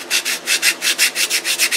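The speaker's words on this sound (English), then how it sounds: "Sand off the CA today." Sandpaper rubbed back and forth over wood to remove hardened CA glue: about ten rapid, even, loud rasping strokes in a steady rhythm, close by with no talking.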